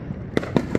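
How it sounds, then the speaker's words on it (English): A child's first firework goes off in three quick, sharp pops spaced about a fifth of a second apart, close by and fairly loud, with no voices over them. "It's Josiah lighting his first firework."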